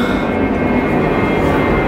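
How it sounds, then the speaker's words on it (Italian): Airplanes passing overhead make a loud, steady engine roar, a broad continuous rumble that stays close and unbroken, with no talking over it. "E registro video su, ci sono gli aerei."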